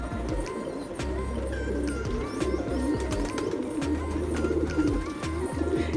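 Pigeons cooing in soft repeated throaty phrases, close by, with low rumbling coos overlapping throughout, some light chirps and faint background clatter.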